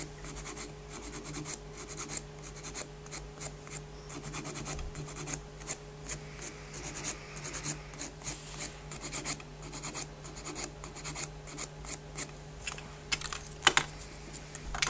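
A nail file rasps along the demarcation line of a nail in a steady run of quick, close scratchy strokes that continue for the whole stretch, with no one talking.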